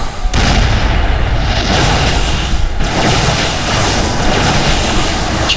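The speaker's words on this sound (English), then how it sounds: "Hold on, the orbital died actually." In a StarCraft II match, an orbital command is destroyed with loud, continuous booming and rumbling explosions that last several seconds, with no talk.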